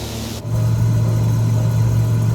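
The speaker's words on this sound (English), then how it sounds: "they lowered the volume on the engine sound" Cessna 206 piston engine in a freeware flight simulator, starting with a sudden jump at half a second to a loud, steady, close drone with a deep humming tone that holds evenly.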